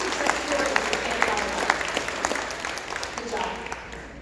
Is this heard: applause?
yes